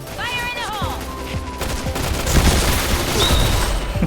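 Rapid bursts of gunfire from the first-person shooter Point Blank, loud and continuous with booming shots over game sounds, while a player talks.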